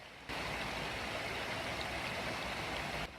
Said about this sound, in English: If I'm quiet, you can hear the creek.